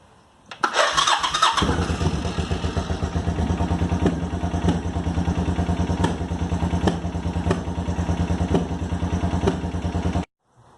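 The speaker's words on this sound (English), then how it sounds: "So all I did was tighten that back up and then started the bike, and it started right up for me." A 1986 Suzuki Intruder 700 motorcycle cranks and fires up after a loose connection was tightened, then settles into a loud, steady close-up idle with a rhythmic thumping beat for about nine seconds before cutting off.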